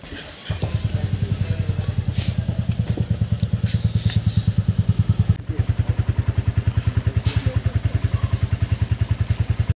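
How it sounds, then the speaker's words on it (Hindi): A motorcycle engine starts and then chugs steadily in a loud, close, rapid thumping rhythm for several seconds, heard on a trip out of Manali toward the Atal Tunnel. "जैसे भाई ने बाइक स्टार्ट कर ली,"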